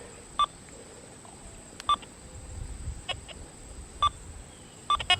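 A Deus 2 metal detector with an 11-inch coil gives short bright electronic beeps at irregular intervals, some single and some in quick pairs, over a low rumbling outdoor background.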